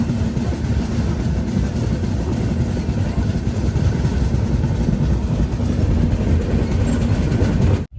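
A Western Railway Mandore Express train on the Delhi to Jodhpur route rolls along the rails, giving a steady, loud low rumble with faint rhythmic rattling that holds throughout.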